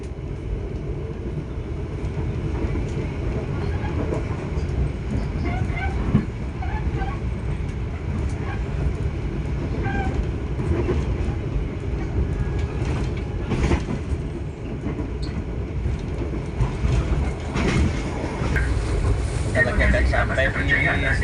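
A local passenger train runs between Malang and Surabaya, its steady rumble and rolling mechanical noise filling the whole span, with occasional creaks and knocks and some talk in the background.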